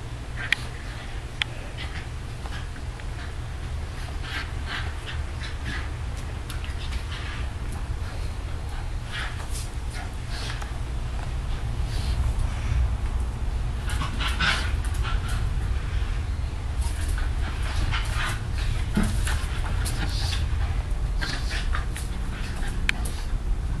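Two dogs play fighting, with scattered yips, whimpers and bursts of barking over steady low rumbling noise, fairly close and continuous throughout.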